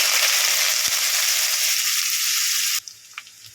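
Chopped onion sizzles loudly in hot oil in a kadai as it goes in for a chicken keema paratha stuffing, a steady dense frying hiss that cuts off abruptly into faint crackles near the end.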